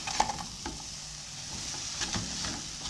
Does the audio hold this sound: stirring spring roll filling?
yes